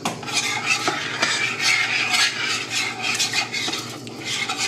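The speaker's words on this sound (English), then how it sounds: "You're combining the milk with the corn flour and the butter." Milk, corn flour and butter sauce stirred in a pan over medium heat, a continuous close scraping and swishing of the utensil against the pan with a faint sizzle underneath and no talking.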